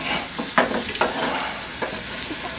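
Sausage and bacon fry in a pan, a constant sizzle broken by sharp scraping clicks as a fork turns the pieces, close up and with no speech.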